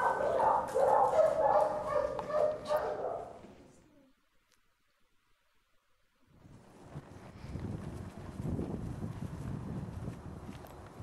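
Dogs barking in a shelter during a behaviour evaluation, a burst of loud nearby barks and yips in the opening seconds, then silence, then fainter windy background noise with softer activity.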